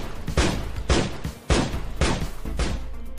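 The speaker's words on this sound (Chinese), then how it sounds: "你们走开，我开枪了。" A pistol fires a rapid series of about six loud, sharp shots at steady half-second intervals outside a warehouse besieged by a frenzied crowd, with no speech over them.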